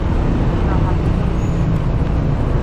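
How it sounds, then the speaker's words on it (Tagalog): Road traffic along a rough road in Marilao, Bulacan, a steady broadband rumble of passing vehicles that holds constant throughout, with some nearby voices. "Traffic."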